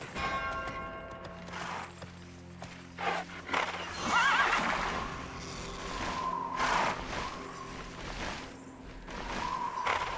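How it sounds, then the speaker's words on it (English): A horse mount in the online role-playing game Tera whinnies loudly and clip-clops its hooves, while a bell-like chime rings in the game background. Nobody talks. "I'm just gonna pilot my horsey over here."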